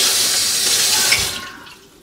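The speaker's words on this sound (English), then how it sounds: "A little bit of water in there." Tap water runs steadily into a cup for mixing cornstarch in a home kitchen, a close, bright, hissing pour that tapers off near the end with no voices.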